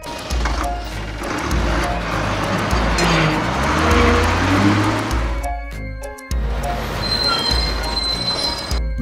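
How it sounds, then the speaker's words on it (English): A cartoon Shanghai bus drives through town with a constant loud motor-and-road roar and scattered squealing, cutting out sharply for a moment late on before the rumble returns. "Shanghai bus."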